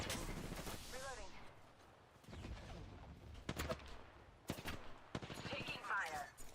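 Gunfire in the Apex Legends battle royale game, with scattered shots and short bursts cracking out among sharp impacts, mixed with in-game voice callouts and effects, loud and close throughout.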